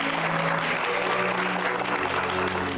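Warm, steady applause from guests fills an indoor birthday party, sustained and fairly loud for a few seconds with a faint murmur of the crowd underneath.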